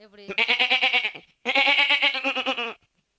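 A goat bleats loudly and close by in two long wavering calls, the second slightly longer, with a short pause between them and no other sound.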